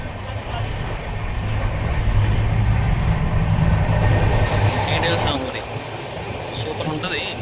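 A passenger train bound for Vijayawada rumbles steadily in a continuous, loud roar, heard from aboard or close by, easing slightly after a few seconds.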